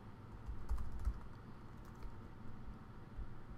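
Fingers typing on a computer keyboard while entering information into a text box, producing quiet, irregular clicking keystrokes close by with faint background hum.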